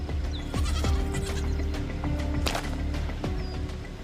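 Goats on a cliff bleat repeatedly, several short wavering calls overlapping at moderate distance, with faint bird chirps in the background.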